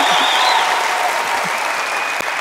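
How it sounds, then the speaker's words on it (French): An audience claps together in a sustained round of applause, dense and fairly loud, with a faint voice briefly heard through it. "Applaudissements pour Mehdi, les amis"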